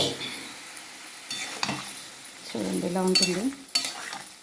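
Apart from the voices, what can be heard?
chole with water added to hot oil masala, stirring and sizzling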